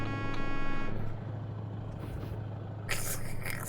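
A truck horn in the Euro Truck Simulator 2 game gives one sustained, buzzy tonal blast for about a second over a steady low engine rumble. A sharp hiss bursts in near the end.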